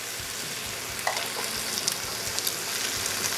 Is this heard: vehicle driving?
no